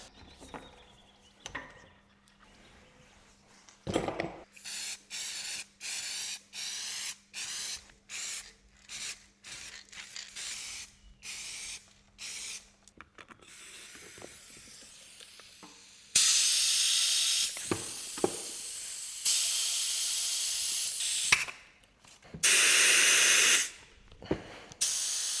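Lubricant sprays in a garage in a series of short hissing bursts, followed later by several longer, louder sprays. No one speaks.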